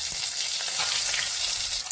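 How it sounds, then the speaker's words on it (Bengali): Eggs dropped into hot oil in a heated wok, crackling in a dense, continuous, close sizzle that holds steady for the whole moment, with no voices. "কড়াই আমার গরম হয়ে গেছে, আমি ডিমগুলো ছেড়ে দিচ্ছি।"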